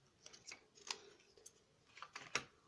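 Scissors cut paper for a folded paper-craft chicken, a quiet series of close, crisp snips at irregular intervals with soft rustling between, and no talking.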